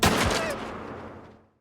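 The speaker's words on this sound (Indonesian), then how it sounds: "58 sengaja menembak informannya." A gunshot from the Korean series Black Knight, a loud, sharp crack that sits close and then fades into a long decaying echo before silence.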